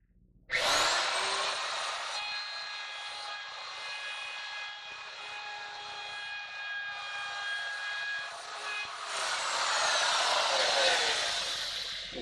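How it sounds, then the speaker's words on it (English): A router bit plunges into wood to cut a V groove for a sign, a loud close high-pitched whine that starts abruptly and holds steadily for about ten seconds, swelling toward the end. "I just came down slowly, plunging the router bit right into the fence."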